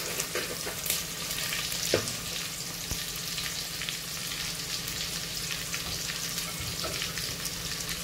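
Garlic sautés in hot oil while it turns golden brown for chicken tinola, giving a dense, steady crackling sizzle with a few sharper pops and faint utensil knocks, close and continuous, with no talking.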